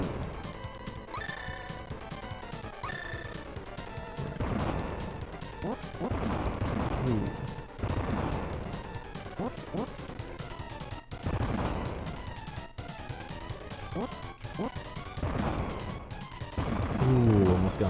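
Bomb explosions go off in a video game boss fight, repeated crashing blasts and thuds mixed under game music while a player talks over them.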